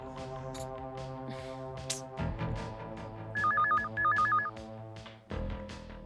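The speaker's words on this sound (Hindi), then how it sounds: "कब से घंटी बज रही है और आप फोन क्यों नहीं उठा रही हैं" A telephone trills in two short warbling bursts over a quiet background with faint music and clatter.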